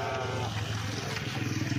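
Goats at a livestock market bleat in a sustained, wavering cry close by, over steady crowd noise and background chatter.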